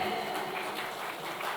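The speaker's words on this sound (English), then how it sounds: "A big round of applause to the gentleman." Audience applause for a guest being welcomed on stage at a tech-in-retail panel discussion, a steady broadband patter filling the whole stretch at moderate level with no break.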